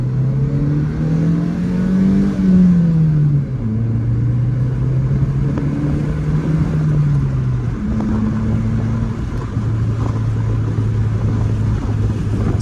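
A Honda Civic with a full tank and windows down on a hot day revs and accelerates, its engine drone climbing and shifting pitch steadily throughout, loud and close with wind rush underneath.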